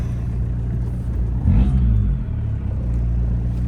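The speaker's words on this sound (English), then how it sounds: "I'm gonna show you guys the engine once more" A boosted VW Golf Mk2 engine idles with a steady low rumble, swelling briefly into a louder blip of revs before settling back to a constant drone.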